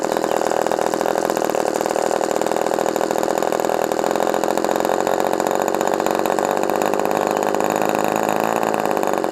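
OS Max 20 RC model glow engine idling steadily on test, a loud continuous buzzing drone with a slight wavering rise in pitch near the end, no voices.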